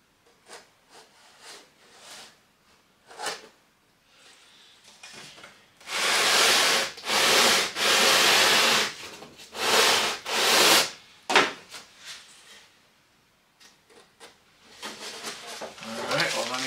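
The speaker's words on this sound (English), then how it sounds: "On the one end only, as to not sand out the middle." Sandpaper rubs back and forth over one end of a piece of dogwood in several loud, close strokes with a scratchy hiss, preceded and followed by quieter handling knocks and someone talking.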